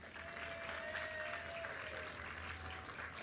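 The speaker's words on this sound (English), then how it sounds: "give my right hand a nice round of applause" A crowd at a bridge sign unveiling ceremony claps in a steady, even round of applause for a few seconds.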